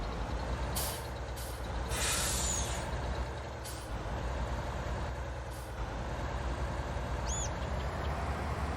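Air brakes of an agricultural truck in Farming Simulator 19, a steady mechanical hiss with a few sharp pneumatic bursts and a short high beep near the end, continuous and moderately loud, no voices.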